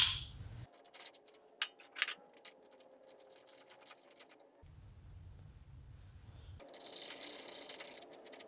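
Bolts being removed from the power steering pump of a Jeep YJ with a 2.5L four-cylinder engine, heard as sparse, quiet ratchet clicks and metallic taps with pauses between, close by and without speech.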